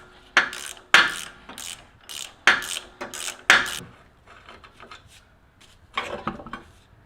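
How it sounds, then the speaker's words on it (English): A ratchet works on the steering stabilizer of a Jeep Wrangler, a run of loud, close, rapid clicking bursts in quick succession, then a pause and one more short burst, without speech. "Now we can loosen up the steering stabilizer."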